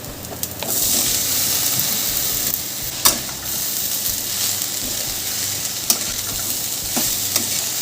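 Chopped snake gourd hisses and sizzles in hot fish oil with garlic, onion and ginger while being stirred, a loud continuous frying crackle broken by occasional sharp scrapes of the spoon against the pan.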